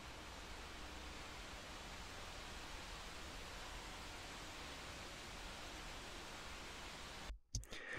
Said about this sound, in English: It's rustling leaves, deciduous leaves.